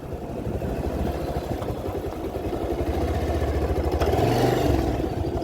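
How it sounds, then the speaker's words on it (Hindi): A motorcycle engine, ridden by a beginner learning to pull away, runs steadily and close with a chattering mid-range drone, then rises in pitch near the end as the throttle opens in second gear. "फिर से धीरे धीरे क्लच को छोड़ते हुए आप रेस दे दो, बाइक हमारी चलने लग जाएगी"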